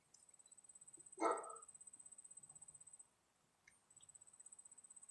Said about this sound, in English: Here come my neighbors with the big dog.